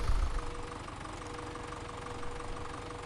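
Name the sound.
tractor engine in Farming Simulator 17 video game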